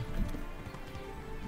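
Horse hooves clip-clopping in the Kingdom Come Deliverance video game, a short run of quick hoof beats at a moderate level, with a brief snort.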